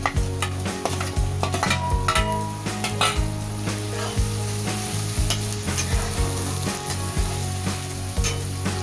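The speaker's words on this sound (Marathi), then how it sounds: "हिरवी मिरची आणि लसणाचा जरा 1 सेकंद परतवणार आहोत आणि परत टमॅटो टाकून घेणार" Green chili, garlic and tomato sautéing in a pan, a steady close sizzle with frequent stirring scrapes and utensil clinks throughout.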